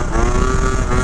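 A Gilera Runner 172cc scooter engine drones loud and close at high revs during a test run, a steady buzzing tone held briefly without talk.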